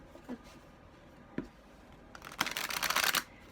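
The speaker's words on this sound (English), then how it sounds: "Sorry I'm having to shuffle so long." A deck of cards is shuffled close by, a soft flick and tap followed by a louder riffling burst lasting under a second.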